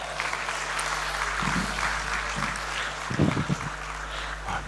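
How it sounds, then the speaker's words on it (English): Modest applause from a conference audience welcoming a panel onto the stage, light clapping over a steady room hum, with a few louder bursts near the end. "please give a warm round of applause to our panel"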